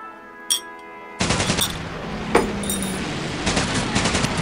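Gunfire breaks out in the World War II shooter Medal of Honor: Pacific Assault during a night defense battle. A short shot comes first, then rapid automatic bursts rattle on loudly and close.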